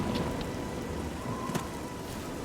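Steady rain falling in the video game The Elder Scrolls IV: Oblivion, a constant even hiss of drops with a faint patter and an occasional soft tick, moderately loud and unbroken throughout, with no voices.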